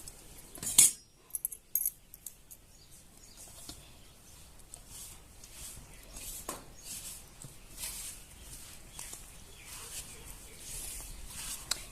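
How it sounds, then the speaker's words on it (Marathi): Hands rub and press a dry wheat flour and semolina ladoo mixture in a bowl, a soft, fairly quiet rustling and scraping that goes on steadily with a few sharper clicks near the start. "मी आता हे छान असं हाताने मिक्स करून घ्यायचं"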